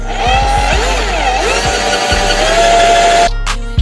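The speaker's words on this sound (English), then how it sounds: "just gently keep drilling it in." A loud, close power drill whirs steadily with shifting pitch, boring a hole through a Nike Air Force 1 sneaker, then cuts off abruptly near the end.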